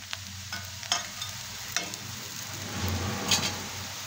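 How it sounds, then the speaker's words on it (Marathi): Vegetables sautéing in a pan for sandwiches, a soft continuous sizzle broken by a few light stirring scrapes, close and fairly quiet, without any talk. "थोड्या वेळ परतून घेणार आहोत."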